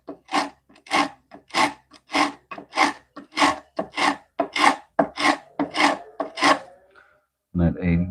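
The iron of a Stanley No. 4 hand plane is rubbed across 80-grit abrasive to remove its burr, about a dozen close, rhythmic rasping strokes and then a short pause before a brief final scrape.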